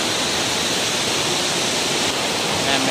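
Cold spring water flowing down from Mount Madyaas on Panay Island, a constant loud broadband rush of falling and running water with no pauses, close by and alone.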